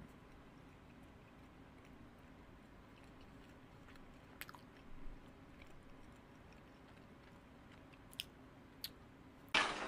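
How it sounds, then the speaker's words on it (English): Quiet, close chewing of a mouthful of seasoned ground beef, soft wet mastication with a few brief crisp clicks and a louder burst at the end. "I'm taking another bite."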